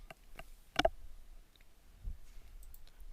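A few faint computer mouse clicks scattered over a quiet stretch, one sharper click standing out near the start and softer taps later, with no speech.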